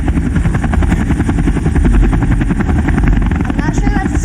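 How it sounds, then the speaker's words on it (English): A helicopter's rotor chops loudly and rhythmically close by, a steady thudding beat over a whining engine, with brief voices near the end. "I'm not sure that's a star. It's a helicopter!"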